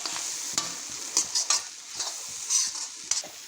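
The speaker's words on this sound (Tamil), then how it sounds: "இப்போ இதை போட்டுட்டு நம்ம நல்லா மறுபடியும் இது எல்லாத்தையும் மிக்ஸ் பண்ணி கலந்து கிளறி விட்டுட்டு" A spatula stirs egg fried rice ingredients in a hot frying pan, making repeated close scraping strokes over a continuous sizzle.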